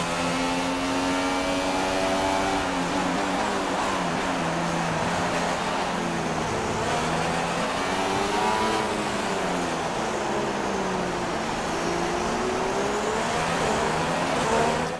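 McLaren Formula 1 car driven by Stoffel Vandoorne in the F1 2016 racing game, heard onboard: a steady, loud high-revving engine drone with pitch rising and falling through gear changes, continuous throughout with no talk.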